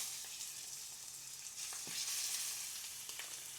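Chicken fries in butter and a little oil in a hot pan, giving a steady, close, bright sizzle with a few soft crackles and no talking.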